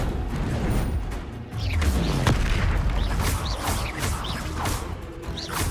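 Confringo blasting spell explosions in the Hogwarts Legacy video game, a series of booming blasts and crashes with whooshing spell sounds, repeated several times amid chaotic combat effects.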